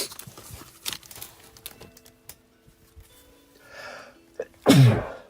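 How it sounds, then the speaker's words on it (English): A single loud, sharp sneeze near the end, preceded by quiet clicks and faint rustling. "Oh, I got a sneeze, dude."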